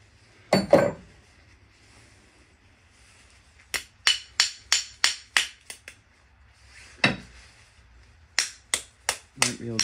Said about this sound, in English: Might be able to just hammer it.